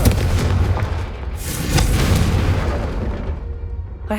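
A Confringo fire spell from the video game Hogwarts Legacy bursts with a loud, sustained roar that swells twice before tapering off, ending with a brief crackle.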